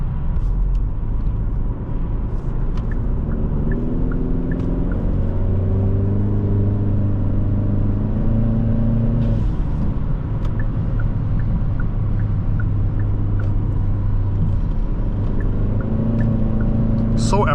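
A 2026 Hyundai Sonata N-Line pulls hard from inside the cabin, its engine note climbing in steady rising sweeps over road rumble, with a voice talking over the drive.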